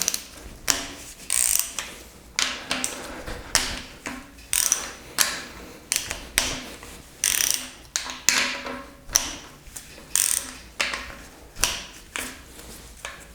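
A wrench ratchets to loosen the cylinder head bolts on a Peugeot 205 GTI 1.9 engine, giving repeated close bursts of metallic clicking in a steady rhythm with short pauses between strokes.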